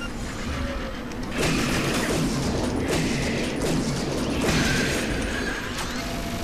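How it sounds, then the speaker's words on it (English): A minigun in the video game Shadowgrounds whirs up to speed and fires in dense, continuous bursts, loud and sustained, with game explosions and mechanical rattling layered through. "Minigun takes a while to activate, doesn't it?"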